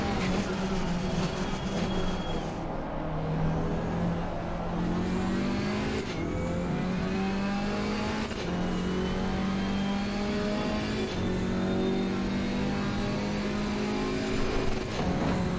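A GT4 race car in Assetto Corsa Competizione revs hard and steadily, its engine note climbing through gears with brief dips at the shifts, loud and continuous throughout with no voices.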